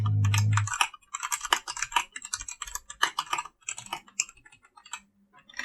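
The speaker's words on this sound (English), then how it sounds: "as far as typing, it'll do just fine for me" Fingers type on an LTC Nimbleback NB-1041 gaming keyboard in quick, uneven bursts of crisp, close keystroke clicks with short pauses between runs, heard alone after a brief low thump at the start.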